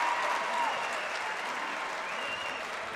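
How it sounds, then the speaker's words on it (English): A Wheaton St. Francis crowd at an IHSA boys supersectional basketball game against Metamora gives a sustained ovation, dense and steady applause and cheering that fills the gym, with a broadcast voice faintly underneath. "Rowland gets a nice ovation from the Wheaton St. Francis crowd"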